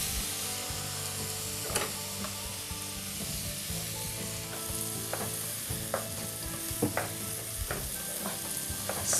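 Onion, garlic and carrot sizzle steadily in the fat left from browning osso buco, a constant close frying hiss broken by occasional clicks and scrapes of stirring.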